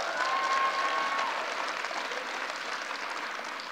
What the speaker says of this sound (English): Let's give a big round of applause for John Jay for hosting us today.